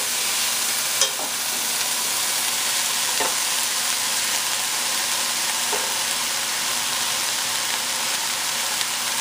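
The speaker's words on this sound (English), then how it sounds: "And then I'm going to add the rice in it." Rice frying in a pan with seasonings such as salt and pepper, giving a steady, even sizzle with a few faint clicks of stirring.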